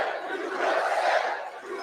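Large crowd at a Trump rally in New York, a dense, steady roar of cheering and shouting that swells in the middle and eases slightly toward the end, heard from within the gathering.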